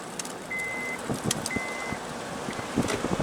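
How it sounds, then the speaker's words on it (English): A steady electronic chime beeps twice in long, even tones inside a moving car, with road and engine rumble running underneath. "And there's my seatbelt alarm going on."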